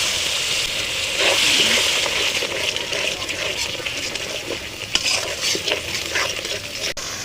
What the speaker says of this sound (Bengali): এটা ভেজে নেব।